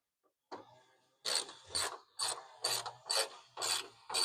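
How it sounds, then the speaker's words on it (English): A hand ratchet clicks through several rhythmic strokes while tightening bolts on the air-conditioning of a 1995 Ford F150, each pass a close rasping burst with short pauses between. "I'll go ahead and tighten my bolts back up."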